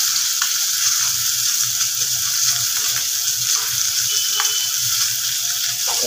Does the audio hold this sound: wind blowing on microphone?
no